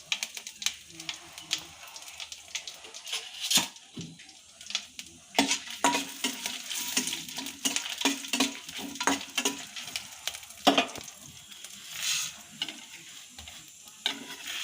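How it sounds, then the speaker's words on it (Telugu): Cumin, coriander seeds and dried chilies sizzle and crackle in hot oil, with repeated stirring scrapes and clinks of a utensil against the pan, fairly close. "ఆయిల్ వేడెక్కాక జీలకర్ర ధనియాలు ఎండుమిర్చి వేసి వేయించుకోవాలి"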